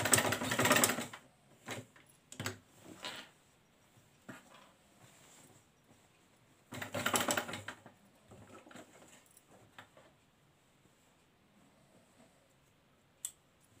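A sewing machine runs in short bursts while restitching over an existing seam on a raglan-sleeve baby frock, with quick rattling runs separated by pauses and scattered light clicks.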